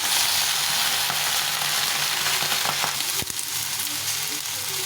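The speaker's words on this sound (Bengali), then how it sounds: "একটু ভাজা ভাজা করে নেবো সবজিগুলো" Vegetables with radish and eggplant fry in a pan with a loud, steady sizzle and a brief scrape of stirring partway through.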